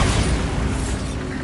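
A Bombarda spell explosion in Hogwarts Legacy, a short, dense, rumbling blast that fills the moment loudly and alone with no voices.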